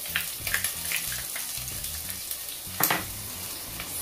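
Onion added to a hot pan with garlic for Jamaican ackee and saltfish fries with a steady crackling sizzle, punctuated by several stirring knocks and scrapes, one sharper clatter near the end.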